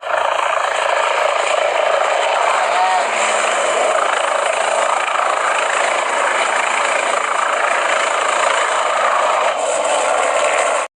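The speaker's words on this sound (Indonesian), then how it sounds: "lihat helikopter polisi" A police helicopter flies overhead, its engine and rotor making a loud, steady droning roar that holds at constant strength throughout.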